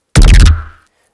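A Vital synth patch processed through EQ, vocoder and multiband effects strikes once, loud and punchy with a bright, noisy attack and a fading tail.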